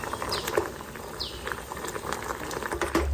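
Bottle gourd pieces boiling in a pot on the stove, a steady close bubbling and simmering with scattered small pops throughout, no voices.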